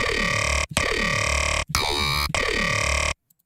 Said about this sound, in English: So now you have a growl